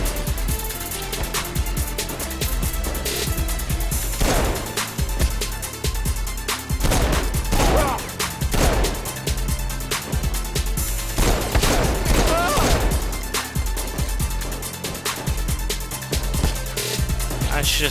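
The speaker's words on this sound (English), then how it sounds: "I'm gonna shoot all these guys in the face." Repeated bursts of gunfire in Saints Row IV rattle loudly through a busy game mix, volleys coming in clusters over about eighteen seconds while someone talks over the action.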